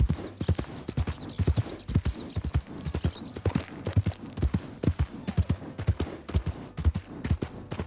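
Horse hooves clip-clop in the video game Red Dead Redemption 2 on a ranch, a loud, close, steady trot of crisp evenly spaced hoofbeats running the whole time with no talk over it.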